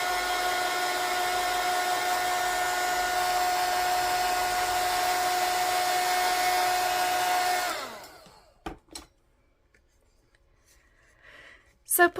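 A heat tool blows a loud, steady whine over stamping foam for about eight seconds, then switches off, leaving a near-silent pause broken by faint handling noises.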